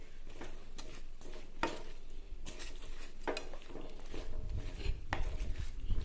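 Spoon stirring a gourd masala curry with salt in a pot, a series of sharp metallic scrapes and clinks at irregular intervals over a faint simmer.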